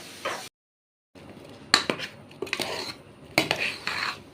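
Cooked tapioca (kappa) being stirred in a pot by a woman in a home kitchen, giving sharp metallic scrapes and clinks of a utensil against the pot in irregular bursts, close and moderately loud, with a brief silent gap.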